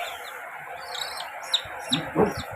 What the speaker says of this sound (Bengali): আবার একটা ছোট ছোট মুরগি এনেছে, মুরগির ছানা